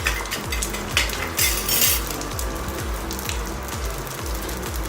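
Black pepper, cumin and bay leaf sizzle in hot oil in a pan for lauki rice, with a steady fry beneath repeated quick metallic scraping and stirring clinks.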